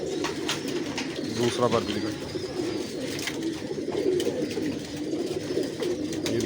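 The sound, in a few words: pigeons cooing at breeding setup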